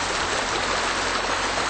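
The Little Colorado River runs through a forest of tall pines, fir, aspen and spruce, a steady close rushing hiss of flowing stream water with no other sounds.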